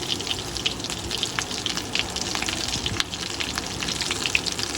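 Potato cheese balls coated in crumbs fry in shallow oil with a steady, close sizzle and crackle, constant throughout with no talk.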